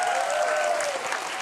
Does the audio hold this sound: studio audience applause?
yes